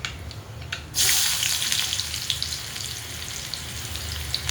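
A sudden burst of loud, steady sizzling starts as finely chopped onion hits hot oil, then continues as a bright crackling hiss.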